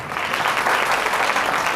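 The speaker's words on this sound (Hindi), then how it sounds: "बहन के लिए तालियां जरा" Applause for a sister at a religious gathering, a dense, steady wash of many hands clapping at once, filling the hall evenly without a break and with no voices over it.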